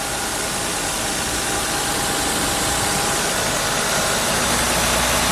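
A car engine runs at a steady idle just after being jump started with a portable 2000A battery jump starter, a loud, continuous mid-range hum with slight vibration and no voices.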